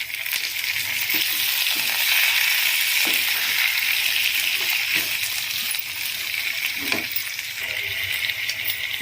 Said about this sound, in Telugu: ఇప్పుడు ఇందులోకి మనం కట్ చేసుకున్న ఆలూ పీసెస్ని యాడ్ చేసుకుందాము.